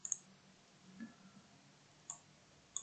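Sharp computer mouse clicks while working in Primavera P6 scheduling software, a few isolated, faint clicks spaced about a second apart in a quiet room.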